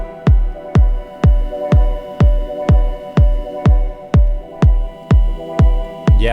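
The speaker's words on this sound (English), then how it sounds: "I love that fluttery synth at the very end" A fluttery synth closes out a chill electronic track, pulsing in a steady run of about a dozen evenly spaced, punchy throbs with a deep low end and sustained tonal layers underneath, loud and alone without any talk.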